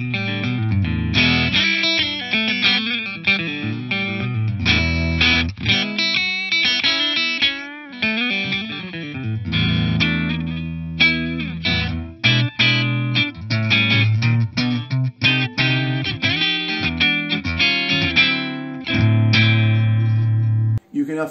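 Electric guitar played through a free amp simulator plugin with a drive section, boost and reverb, strumming distorted chords and riffs in steady phrases with sustained ringing notes, loud and close, with no talk over the playing.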